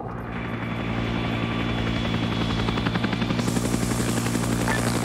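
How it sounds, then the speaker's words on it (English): A video game helicopter lifts off as its rotor and engine build into a loud, steady thumping drone that intensifies over several seconds. "Chopper is lifting."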